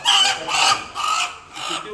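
Chickens and roosters at a Malvan farmhouse cluck in four close, fairly loud bursts, one after another.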